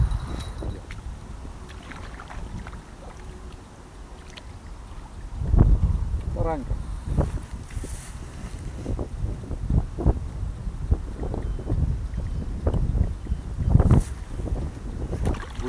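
Wind blowing across a lakeside carp-fishing spot on a feeder rig, a steady low rumble of gusts buffeting the microphone, with occasional knocks and a brief splash-like burst midway.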